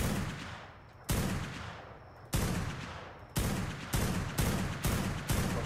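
Gunfire in Ark: Survival Evolved, six loud separate shots, each with a long decaying tail, spaced roughly a second apart and coming faster toward the end.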